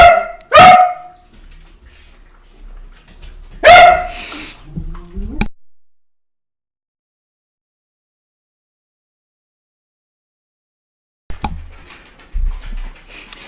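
Dogs bark in two loud, close bursts of sharp barks a few seconds apart, followed by silence and then faint rustling and a quiet voice.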